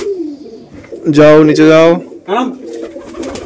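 Giribaz tumbler pigeons coo in a newly entered coop, a rolling, throaty coo swelling loud and close for about a second amid softer coos, while someone speaks briefly over them.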